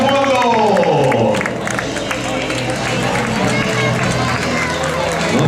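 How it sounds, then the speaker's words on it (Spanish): A crowd at a night-time road race in Vilagarcía applauds and cheers steadily throughout, a broad roar of clapping and voices under a loud amplified announcer speaking over a PA. "Quiero pedir un fortísimo aplauso para esa figura que ven por ahí en fondo."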